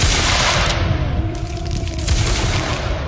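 A Roblox line-infantry battle reenacting Waterloo, a dense volley of musket gunfire crackling at once, loud and rolling into booming echoes for a few seconds with no talk.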